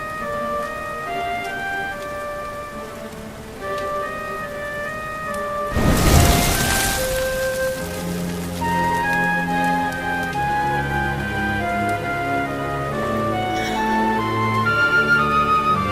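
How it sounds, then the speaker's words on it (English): Steady rain falls in Dragon Quest XI, an even hiss beneath sustained musical tones, with a brief louder rush in the middle and no talking. "Looks like the rain's dying down."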